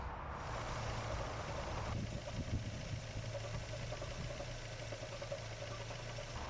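A Mazda MX5 engine with its exhaust cam timing one tooth out idles roughly nearby, a low, uneven, lumpy thrum with irregular pulses and no talking over it.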